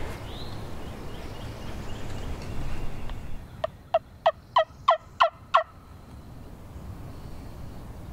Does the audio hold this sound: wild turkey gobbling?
yes